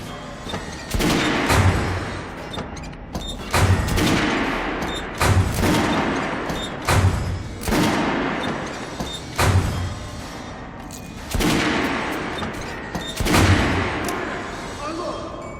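Repeated gunfire on a shooting range in the video game Metro Last Light, with heavy, loud shots at irregular intervals, some bunched, over a dense echoing background.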